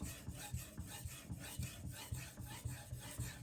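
A 210mm Karaku AS gyuto knife is drawn across a wet 5K whetstone in quick, even back-and-forth strokes, each pass a gritty rasp close to the microphone, repeated about a dozen times.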